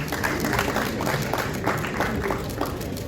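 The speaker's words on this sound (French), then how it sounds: "Je vous demande d'applaudir cette convention." An audience at an agricultural trade show applauds a signed partnership agreement, with moderate clapping continuing under a fairly steady crowd murmur.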